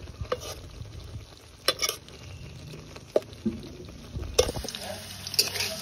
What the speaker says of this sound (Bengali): আলুগুলোকে মাছের সাথে কিছুক্ষণ কষানো হবে।